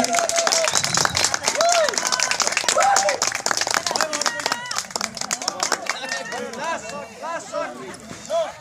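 An audience claps for the tournament winner, Chhetri, called to the front of the stage at a prize ceremony; fairly loud, steady applause runs throughout with voices over it.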